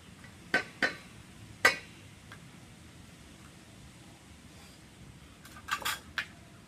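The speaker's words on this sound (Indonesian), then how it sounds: "Terus aduk, lalu diaduk sampai rata." Egg pancake batter stirred in a bowl, a few sharp clinks of a utensil against the bowl in two separate clusters, close and clear over a quiet, faintly hissy background.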